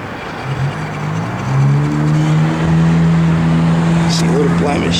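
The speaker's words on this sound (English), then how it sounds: "Car's got a great sound" A 1966 Ford Mustang engine idles and rises in a deep, steady rumble, climbing in pitch as it revs and then holding a smooth, loud drone close by, with someone talking over it.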